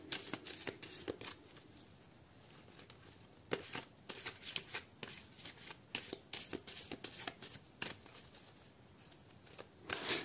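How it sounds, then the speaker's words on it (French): Tarot cards shuffled by hand in irregular bursts of papery riffling and soft slapping, close and fairly quiet, with short pauses between bursts and no voices. "C'est parti pour le tirage et le mélange des cartes."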